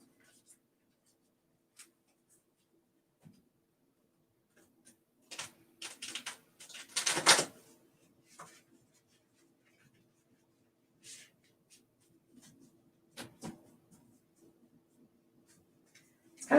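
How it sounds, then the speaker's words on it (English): A deck of playing cards is shuffled by someone standing: sparse soft clicks and rustles, with a louder riffling flurry midway and a few more bursts later, all fairly quiet with no talk. "It's kind of hard to shuffle standing up. I don't think I've done that very much with these cards."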